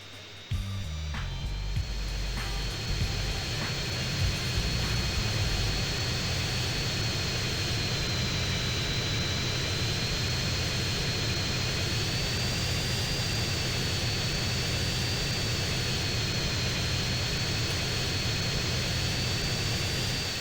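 A fixed-wing airplane in GTA San Andreas flies in to land at Las Venturas, its engine a steady, continuous jet drone with a high whine holding loud and close throughout, no speech.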